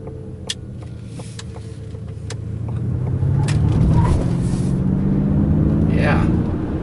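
A 2021 Ford Mustang Mach-E electric car drives on curvy roads, a steady low rumble of road and tire noise that rises and swells around mid-clip, heard from inside the cabin with people talking over it.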